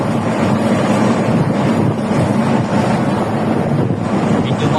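Strong wind buffets the microphone on a boat at sea. The roar is loud and constant, with small waves washing underneath and a faint voice partly masked.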